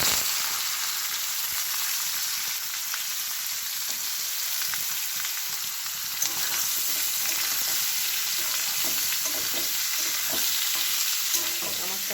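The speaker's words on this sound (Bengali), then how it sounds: "কড়াইয়ে তেল দিয়ে পাঁচ ফোড়না শুকনো লঙ্কা দিয়েছি এবার ওই আলুগুলো আমি ভালো করে ভেজে নেবো" Boiled potatoes fry in oil in a wok with five-spice seeds and dried red chillies, a loud, continuous sizzle broken by repeated scraping stirs of a spatula close by, with no talking.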